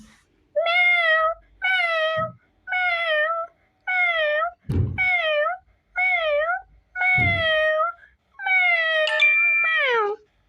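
A voice imitates a cat, meowing about ten times in a steady series of drawn-out, close meows, with a few soft thumps in between.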